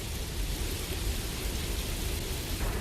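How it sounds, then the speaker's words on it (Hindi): Heavy rain pours steadily in an animated show, a dense hiss of falling water with a low rumble of thunder underneath, constant throughout. "बारिश तो बहुत बढ़ गई है।"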